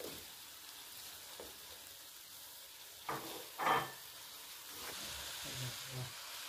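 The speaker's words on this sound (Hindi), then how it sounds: "इसको इसके साथ थोड़ा सा भूनेंगे, ज़्यादा हम नहीं भूनेंगे कि दाल बहुत ज़्यादा गल ना जाए" Masoor dal and potatoes fry in a pan with a soft, steady sizzle and hiss, broken by a few brief stirring scrapes and clinks.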